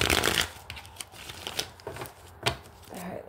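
Tarot cards being shuffled by hand, a fluttering riffle at the start followed by scattered soft slaps and taps as the deck is handled, close and fairly quiet.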